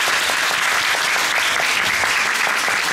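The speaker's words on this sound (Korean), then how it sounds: "배우들 전체적으로 박수 한번 부탁드리겠습니다" Dense, steady applause from a theater audience for the cast of a stage musical during a curtain-call greeting, continuous and fairly loud throughout with no talking over it.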